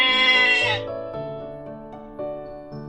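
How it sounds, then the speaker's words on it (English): A sheep bleats in a single drawn-out, wavering call that fades into a steady tonal tail, loud and close with no talking. "This is a sheep"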